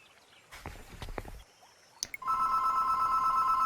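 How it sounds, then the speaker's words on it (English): A telephone starts ringing with a loud, sustained electronic trill after a few footstep-like knocks and clicks, dominating the end of the moment with no voices. "And of course, phone calls, lots of phone calls."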